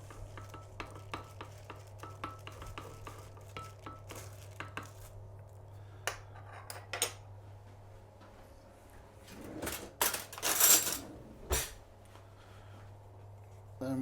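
Char siu pork marinade tinted with red food colouring is stirred, making irregular clicks and scrapes, then a louder burst of mixing near the end over a low steady hum.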